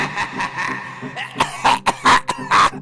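A few sharp, raspy coughs burst out close by after a brief stretch of muffled sound, then repeat in short, uneven bursts.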